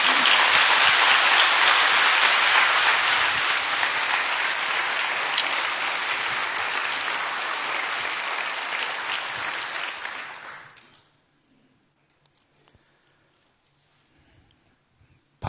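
A Sunday church congregation gives a pastor a warm welcoming round of applause: sustained, dense clapping that holds steady for about ten seconds, then fades quickly into near silence.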